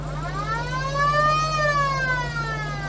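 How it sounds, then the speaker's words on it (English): A siren mounted on a privately owned tank wails in a steady, rising and falling electronic tone, loud and close, with a low constant hum beneath it and no talking. "Gotta have a siren. Got a siren."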